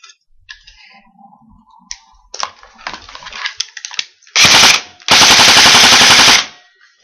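DBoys M4 airsoft gun, an electric rifle, firing two loud rapid bursts of clattering mechanical shots, preceded by scattered clicks and handling noises, close up.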